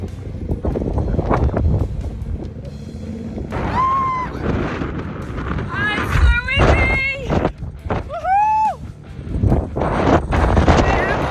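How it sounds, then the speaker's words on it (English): Strong gusting wind buffets the microphone on a Yamaha Tenere 700 motorcycle ride through Sardinia, a loud steady roar with brief tonal whistles and voice-like bits over it. "It's windy"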